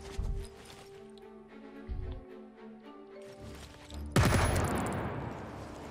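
Bursts of gunfire in the game Jagged Alliance 3 crack over a steady game soundtrack, with a loud burst of explosive noise near the end.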